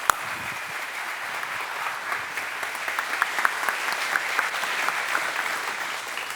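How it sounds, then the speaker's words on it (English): An audience at the SummerStrong event breaks into sustained applause to welcome speaker Tim Anderson, a steady wash of many hands clapping that opens with one sharp clap and continues evenly to the end. "round of applause to Mr. Tim Anderson"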